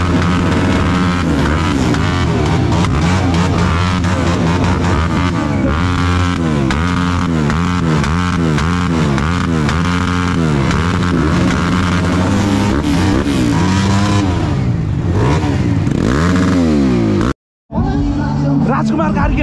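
Dirt bikes revving hard at a dirt track finale event, loud rising and falling engine whines overlapping continuously, with crowd chatter and voices underneath and a brief dropout near the end.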